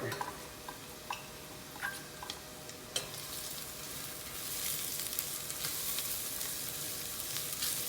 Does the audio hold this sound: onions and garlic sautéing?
yes